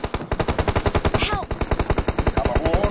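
Rapid, steady bursts of automatic gunfire in the PUBG Mobile battle game, loud and close, with a few faint voices underneath.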